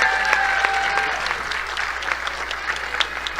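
Audience applause at a live Cherokee ambassador announcement, steady crowd clapping with a few sharper individual claps standing out, fairly close and continuous, with a faint tone lingering early on.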